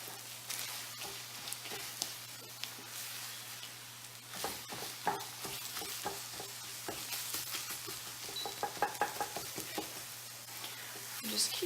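Eggs cook in a pan for breakfast burritos while being stirred steadily, a soft sizzle running under repeated scraping and tapping of the utensil, which grows busier toward the end.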